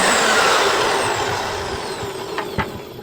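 A circular saw mounted in a homemade saw table cuts wood. Its loud, steady whine gradually fades as the blade winds down, with a couple of brief knocks near the end.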